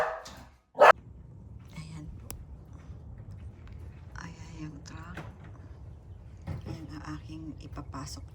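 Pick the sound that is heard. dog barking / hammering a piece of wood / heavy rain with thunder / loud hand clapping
dog barking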